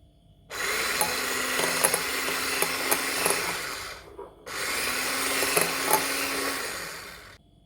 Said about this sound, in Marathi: आपण बीटरच्या साह्याने ते परत क्रीम फेटून घेणार आहोत